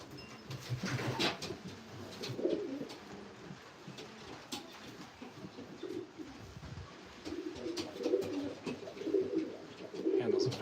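A racing pigeon in a loft coos in soft, repeated low calls, close and clear over light shuffling and background noise.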